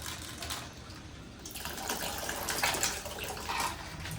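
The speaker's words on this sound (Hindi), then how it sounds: "ठंडा बर्फ वाला पानी इसमें डलता है।" Ice-cold water pours and gushes steadily into Kashmiri pink tea, a continuous splashing flow throughout.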